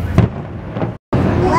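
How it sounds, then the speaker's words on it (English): Loud Disneyland fireworks boom and crackle close by in a dense rumbling volley, with a brief cut before the rumble resumes, and people talk under the noise. "Those are called fireworks."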